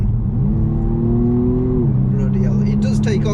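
A 2020 BMW M135i F40 in sport mode accelerating hard, its engine note climbing steadily in pitch, dropping briefly at a gear change, then rising again, loud from inside the cabin.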